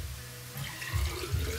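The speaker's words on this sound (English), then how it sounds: "My water's empty. I have to fill it." Water runs from a tap to refill a drinking glass in a home kitchen, a steady rushing stream with gurgling swells, moderately loud and without speech.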